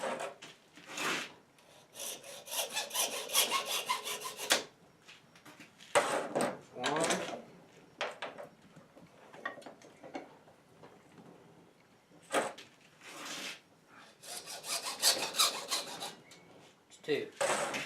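A saw cuts turkey wing bones held in a vise, rasping back-and-forth strokes in several bursts separated by short pauses, fairly quiet and close.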